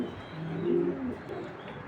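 A big racing pigeon coos once, a low, soft, throaty rolling call heard close up against faint background hiss, with no talking.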